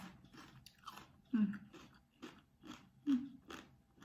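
Close, wet chewing of som tam salad, with rhythmic bites and soft crunches repeating every half second or so, quiet overall with a couple of louder crunchy bites.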